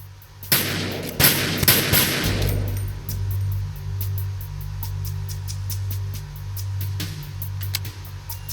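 Several sharp gunshots in Metal Gear Solid 2 ring out early in the stretch, spaced a moment apart and echoing, followed by a low steady hum with a few faint clicks.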